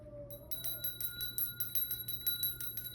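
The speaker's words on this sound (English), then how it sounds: "Let's ring the bell." A bell rung once at the start of a pick-a-card tarot reading, its clear ring sustaining steadily over a quiet room with no talking.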